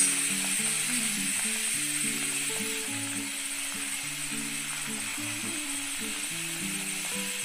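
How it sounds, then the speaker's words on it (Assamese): Small fish sizzle steadily in hot oil in a kadai, a continuous close frying hiss with a low tonal hum running underneath throughout. "কেৰাহীত তেল দিয়া হৈছে এইবোৰ মাছ ফ্ৰাই কৰিবলৈ"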